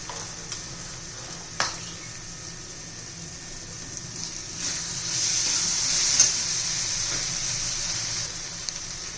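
Masala pasta with red chilli powder and tomato sauce being mixed in a sizzling pan, a continuous hiss that swells midway, with occasional spoon knocks and no voices.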